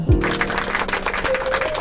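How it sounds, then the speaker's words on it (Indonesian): A short burst of applause for an invited guest at a school interview session, scattered clapping from a small group heard close after a brief tone at the start. "beri aplaus untuk Pak Mahfud selaku tamu undangan kita pada kali ini"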